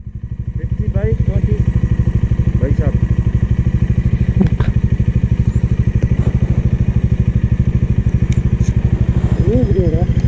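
A motorcycle engine runs steadily and loud throughout, a close, even low chug on a road near the abandoned Kuldhara village in Rajasthan's Thar desert, with people talking over it.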